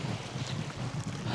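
Strong wind buffets the microphone beside a lake during feeder fishing for bream at Vileyka reservoir, a steady loud roar with low gusting rumble throughout, no voices.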